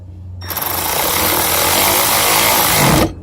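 A Milwaukee cordless ratchet drives bolts during dash work, a loud, continuous high-pitched motor whir that starts abruptly, holds for about two and a half seconds, and cuts off.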